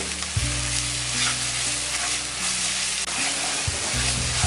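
Spice masala frying in a pan for Bengali doi potol, with pointed gourd: a steady sizzle under continuous stirring, close and fairly loud, with a few scraping strokes.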